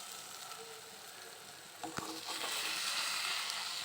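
Egg podimas is stirred in a pan over a medium flame, giving a soft, steady sizzle with a few faint scraping knocks partway through, all fairly quiet.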